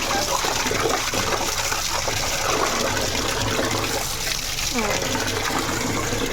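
Water runs steadily from a tap while chicken is washed, a constant rushing splash close by. A voice speaks over it in places.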